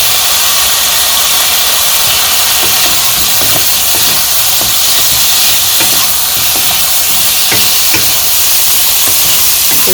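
Loud continuous sizzle and hiss of tomatoes frying in a pan with potatoes and spices, a steady dense crackle with occasional small pops and stirring scrapes, close and unbroken throughout.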